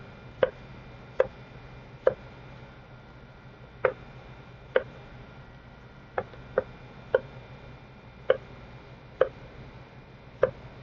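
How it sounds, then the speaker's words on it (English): A knife chopping apples on a cutting board for apple crisp, about a dozen sharp, separate knocks at an uneven pace, close and clear over a quiet background. "I can see exactly where I'm going to cut."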